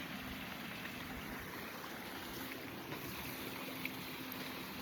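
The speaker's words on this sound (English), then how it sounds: "Can you hear that? It's so beautiful. It's a bit of a creek." A small creek flowing outdoors, a steady broadband wash of running water with faint wind, continuous and even, no voices.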